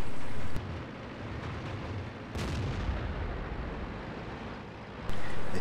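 Tank cannon fire in the World of Tanks game on the Sand River map, a deep booming blast followed by a rumbling roar, with another heavy boom arriving near the end.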